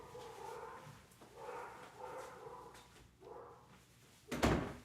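Belgian Malinois dogs indoors give a string of muffled, rhythmic barks and whines at moderate distance, with a sharper knock or door bump at the end.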